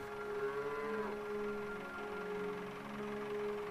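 A cow on an autumn Salamanca dehesa moos once in a long, steady low call, fairly distant and faint, the tone drawn out and slightly wavering over a quiet rural background.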